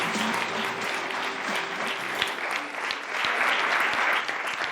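Studio audience applause on an Italian sports television program, a steady, dense burst of clapping lasting several seconds, fairly close, with faint voices and tones underneath.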